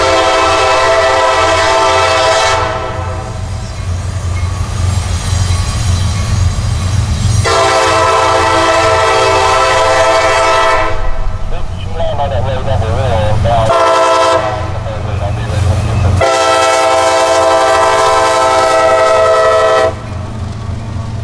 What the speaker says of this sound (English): here comes a southbound auto rack train with an SD-70 Mac in the lead and its classic ear-splitting horn